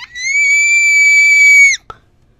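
A high, sustained screech from a voice, held steady for nearly two seconds and then cut off sharply, followed by a brief click, loud and alone.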